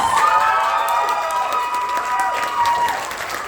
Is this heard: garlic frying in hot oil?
no